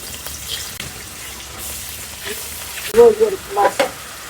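Hot cooking oil sizzles softly as ingredients go into the pan for a hilsa fish korma, then erupts into louder, close spitting bursts toward the end.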